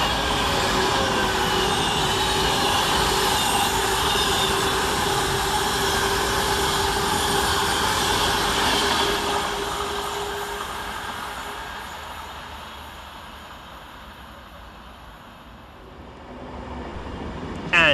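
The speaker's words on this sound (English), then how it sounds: "Gliding through on the fast line, 390-123, working 1 Sierra 90 from London Euston to Glasgow Central." A Class 390 electric train glides through Stafford station on the fast line, a loud rushing roar and rumble of passing carriages that fades gradually into the distance, with faint station ambience remaining.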